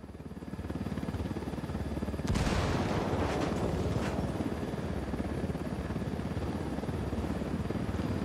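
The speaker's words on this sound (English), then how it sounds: "Incoming enemy helicopter." An enemy helicopter's rotor in the video game Ghost Recon Wildlands thumps steadily and loudly throughout, with a few sharp bangs and blasts mixed in near the middle.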